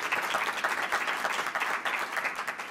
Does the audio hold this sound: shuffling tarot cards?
no